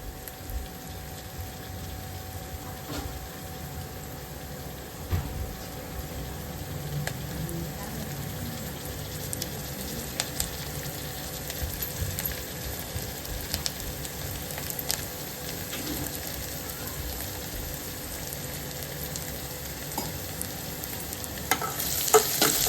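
Onion browns in a pan for veg dalcha, a low steady frying hiss with occasional light stirring clinks and scrapes.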